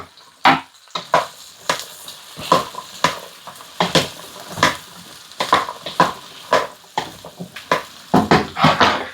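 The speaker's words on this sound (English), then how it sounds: "In with the swede, again, lovely and chunky for the stew." Chunky pieces of raw swede dropped by hand into a stew pot for a 1940s wartime-ration stew, a close series of irregular thuds and knocks against the pot with no talking.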